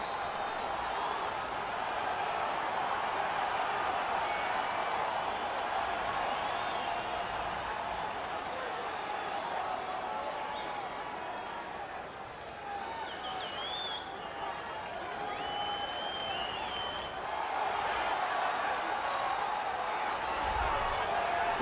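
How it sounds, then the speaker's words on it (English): Game arena crowd in EA UFC 3 roars and cheers steadily as a fighter walks out to the octagon, a dense, sustained wash of cheering and applause throughout with slight swells. "the crowd pops as this guy makes the walk to the octagon"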